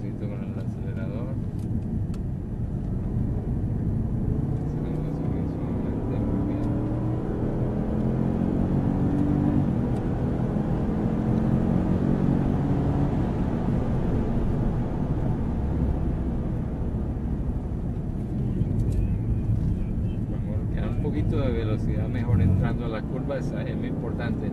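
A Jaguar lapping a track with gentle throttle, its steady engine rumble and road roar holding even and close throughout, with some rising whine near the end.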